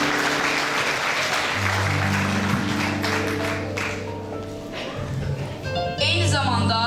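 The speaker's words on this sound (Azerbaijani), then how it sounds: "Alqışlarınızla." Audience applause at a school literature evening, a short burst of clapping in a hall that rises, thins out and then swells again, with a voice speaking over it.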